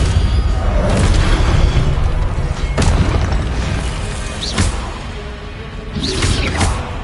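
Spells cast in combat in Hogwarts Legacy, among them Incendio, Expelliarmus and Protego, burst out as booming whooshes and sharp magical cracks. Several loud bursts land over a constant rumbling battle backdrop.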